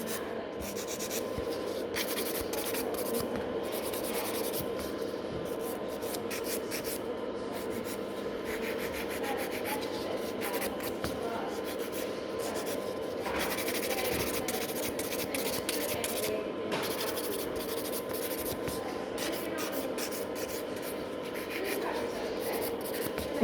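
Clear gel nails being filed to shape with a nail file, a steady dry scratching and rubbing that runs continuously and close up, with no talking.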